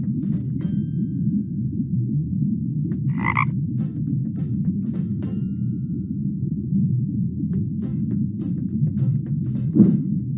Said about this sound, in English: This frog is the grown-up of the tadpole we added.